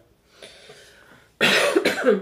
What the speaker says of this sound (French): Désolée si je tousse de temps en temps